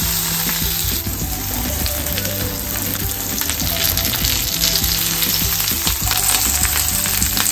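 Rohu fish frying in oil on a banana leaf over a slow flame, a loud continuous crackling sizzle close up with faint scattered pops, steady throughout with no voices.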